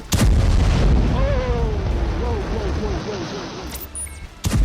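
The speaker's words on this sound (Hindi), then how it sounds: "अचानक धमाके की आवाज आई" A bomb explosion at night in Gaza: a heavy blast booms out at the start, followed by rumbling noise and a wavering wail, then another sharp burst at the very end.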